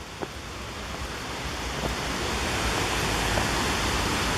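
Steady broadband rush of a waterfall in Saluda, North Carolina, spilling over rock, heard close and continuous with no voices, growing slightly fuller toward the end.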